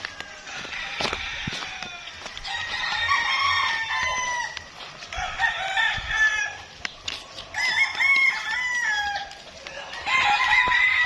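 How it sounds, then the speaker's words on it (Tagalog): Gamefowl roosters at a mountain game farm crow repeatedly in overlapping, loud bursts, some near and some farther off, with clucking and faint footsteps between the calls. "May mga manok dito nakakabi."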